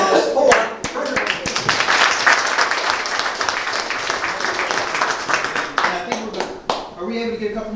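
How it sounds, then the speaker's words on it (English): An audience gives loud, sustained applause to welcome a speaker at a talk on enslaved iron furnace workers in Tennessee, with dense clapping close by that thins out toward the end as voices return. "But please give a warm welcome and a round of applause for Frederick."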